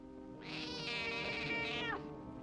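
A cat gives a single drawn-out, wavering meow lasting over a second, loud and close, with a faint steady hum underneath and no talking.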